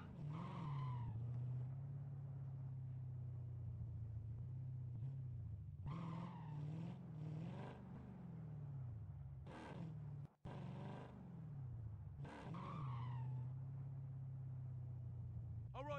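A car driven in the Modern Warfare shooter game: a steady low engine rumble with repeated revving surges and skidding tires, several bursts across the stretch.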